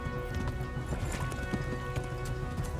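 Hooves clatter in a quick, steady galloping rhythm as a horse runs in the medieval video game Kingdom Come: Deliverance, fairly close and continuous.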